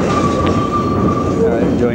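A Berlin tram rumbles along its rails with a sustained metallic squeal ringing over the running noise, close and fairly loud.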